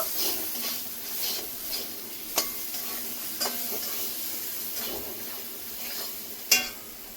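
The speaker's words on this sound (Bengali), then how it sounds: "মশলার সঙ্গে আলুটা মিশিয়ে নেব" Potatoes being stirred into fried spices in a pan for a village-style Bengali fish curry with eggplant: a steady sizzle runs under scraping spoon strokes and a few sharp clinks against the pan, with no talking.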